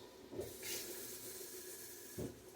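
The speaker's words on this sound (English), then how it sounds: "just a little bit to conduct some of that heat into steam" Soft steam hiss from octopus searing in a new pan after a splash of liquid goes in, faint and steady with two brief louder sizzling puffs, no talk.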